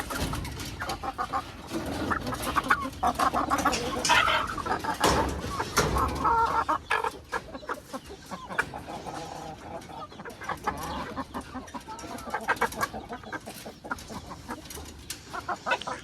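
Chickens cluck and call steadily through a busy coop, with dense overlapping clucks and occasional sharper squawks, fairly close and continuous throughout.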